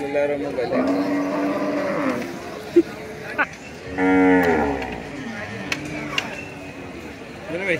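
A bull moos loudly nearby at a Bangladeshi Qurbani cattle market, two long bellowing calls a couple of seconds apart, amid crowd chatter and scattered knocks.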